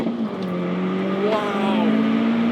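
A Stage 2 Volkswagen Golf Mk4 GTI engine revs high and steady, holding a strained, rising drone close by as the car launches hard in first gear with traction control off.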